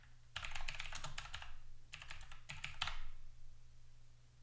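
Someone types a command on a computer keyboard while setting up a Raspberry Pi, with two quick close bursts of clicking keystrokes separated by a short pause, faint and alone.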